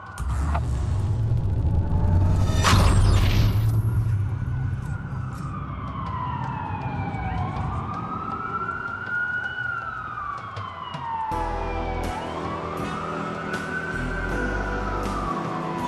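Several police sirens in the video game Watch Dogs wail and sweep up and down at once, loud and nearby, over a low engine rumble, with one brief sharp crash early on.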